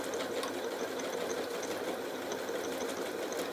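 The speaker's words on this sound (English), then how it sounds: "So we're going to lock stitch." A computerised embroidery sewing machine runs a lock stitch, making a steady, fast mechanical whir and rattle close by with no pauses.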